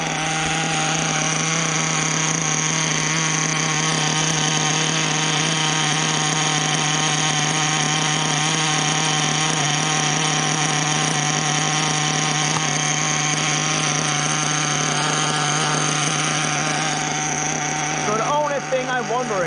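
A HoBao Hyper VS2 nitro RC car's 0.21 glow engine fitted with a T4 glow plug runs at a steady high-pitched buzzing idle, loud and continuous throughout, with a little talk in the background.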